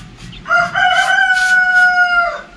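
A rooster at a rural Turkish house crows once, loud and close, a drawn-out call with a rising start and a long held end, alone without talk.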